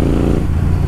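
Royal Enfield Interceptor 650 fitted with Red Rooster exhausts, its engine revving at low revs with a loud, close, deep rumble throughout, no voices.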